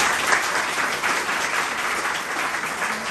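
A hackathon audience gathered for the Saylani Hackathon 2023 breaks into loud, sustained applause, with dense steady clapping filling the whole stretch at close range and no voices standing out.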